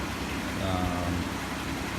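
A 2004 Chevy Impala engine idling steadily during a test run, a low continuous hum heard from nearby with no one speaking.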